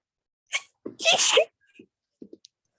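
A single sharp sneeze close by, preceded by a quick intake of breath and followed by a few faint small sounds.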